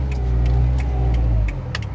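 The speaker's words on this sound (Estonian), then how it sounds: "paneme selle auto tööle" A Subaru Impreza WRX STI engine rumbles loudly and close, a deep steady idle that drops slightly in level midway, with light clicks on top.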